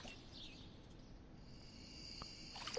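Crickets chirping in the Stardew Valley video game, faint high pitched trilling at low volume that grows busier near the end, with no voices.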